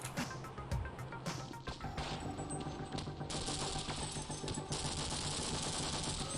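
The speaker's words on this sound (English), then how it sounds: "Where did that shot come from?" Gunfire in the Half-Life video game, a rapid series of sharp cracking shots and impacts in the first seconds followed by a loud steady hissing din, close and dense, with no talking.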